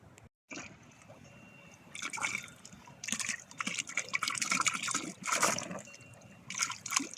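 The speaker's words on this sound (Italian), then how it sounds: "Fontana indemoniata." Water from a fountain in an Aosta Valley village in Gressoney-Saint-Jean splashes and gushes in uneven bursts, close and fairly loud outdoors, with no talk.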